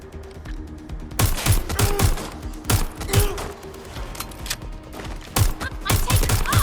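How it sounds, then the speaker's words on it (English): Gunfire in a Watch Dogs: Legion shootout: loud, close bursts of automatic and single shots in irregular clusters, with sharp cracks and thuds, sustained across the scene and heavier toward the end. "Suspect has opened fire!"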